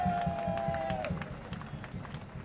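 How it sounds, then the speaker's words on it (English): Crowd at a presidential election rally in Singapore clapping and cheering, a steady wash of applause with a brief whistle-like tone early on, continuous and fairly distant throughout. "So give yourselves a round of applause"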